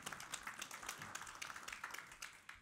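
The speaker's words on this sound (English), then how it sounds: "Please give her a big round of applause." Faint, distant audience applause at a developer conference session, an even patter of many hands clapping without talk.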